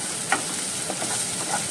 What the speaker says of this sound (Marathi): आतां हांव ग्रीन चिलीज एड करता